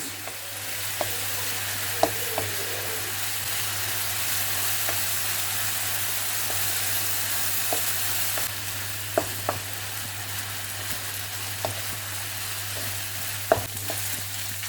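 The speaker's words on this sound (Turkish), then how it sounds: "Orta ateşte tavuk kendi suyunu bırakıp çekene kadar pişiriyoruz." Chicken pieces with finely chopped garlic fry over medium heat in a sac pan, giving a steady, close sizzle with occasional light stirring taps and scrapes, and no voices.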